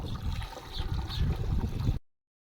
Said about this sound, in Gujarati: અને હવે માથે નાખ્યું થોડુંક પાણી.